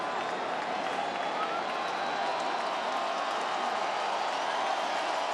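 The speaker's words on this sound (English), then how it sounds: "The crowd gets going." A big baseball stadium crowd at a 2019 Nationals–Dodgers playoff game, a dense steady roar of cheering and clapping carried at a distance, sustained without a break for several seconds.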